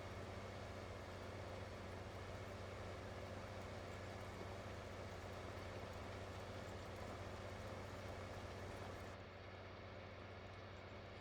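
John Deere 4440 tractor engine in Farming Simulator 2019, a steady low droning hum running at constant level throughout, faint and even with no voices, the high end dropping out near the end.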